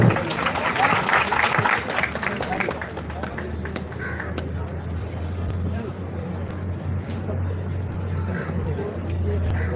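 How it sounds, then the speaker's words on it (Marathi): An audience at a youth training scheme gathering applauds, a dense crackling patter of many hands that is strongest at first and then settles into a softer, continuous wash with a low hum beneath. "ताईंच्यासाठी सुद्धा टाळ्या वाजवूया।"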